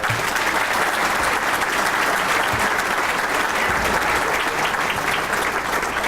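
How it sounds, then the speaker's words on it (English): Audience at an East Alabama Chamber dinner applauding the chamber's board of directors, a loud, dense, sustained wash of clapping from a large crowd with a faint murmur of voices beneath. "A round of applause."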